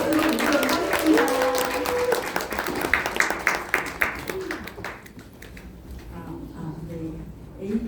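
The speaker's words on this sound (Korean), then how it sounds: "큰 박수로 드리도록 하겠습니다." An audience at a business presentation claps steadily for several seconds while a voice speaks over the applause, which thins out and fades toward the end.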